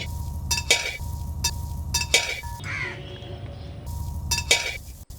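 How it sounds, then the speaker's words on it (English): Sliced pearl onions, garlic and ginger sauté in a pan outdoors, with a steady sizzle under repeated clinks and scrapes of a utensil stirring against the metal, and a short pause in the stirring midway. "Saute the sliced pieces of pearl onions,"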